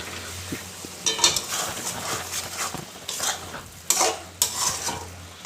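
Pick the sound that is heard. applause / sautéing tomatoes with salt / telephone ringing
sautéing tomatoes with salt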